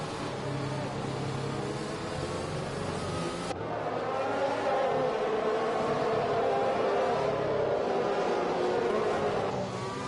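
Race cars in the Live for Speed racing game lapping at the Hungarian Grand Prix, several engines droning and whining together in a steady, dense roar, with one car's pitch rising as it passes nearer.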